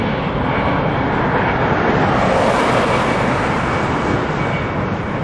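An airplane comes in to land at an airport near Forest Park, Georgia, a loud, steady roaring engine rumble throughout with a broad rushing swell in the middle as it passes.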